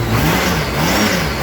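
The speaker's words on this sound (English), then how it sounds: "That's a 27-year-old motorcycle engine." A 27-year-old Honda GL1500 motorcycle engine runs close by, its pitch rising and falling as it is revved briefly.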